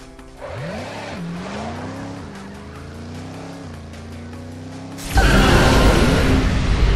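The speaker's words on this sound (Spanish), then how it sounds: "Esto ocurre cuando tu energía activa tu acelerón turbo chrome." A Cars 2 video game race car fires its chrome turbo boost: an engine tone climbs and shifts pitch for several seconds, then a sudden loud whooshing roar of power bursts in and holds to the end.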